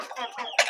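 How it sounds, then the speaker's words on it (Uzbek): Adler and Makiyon roosters and chickens cluck at close range in short, overlapping calls, ending with a sharper squawk. "Bu yoqda ham xo'roz makiyonlarimiz bor"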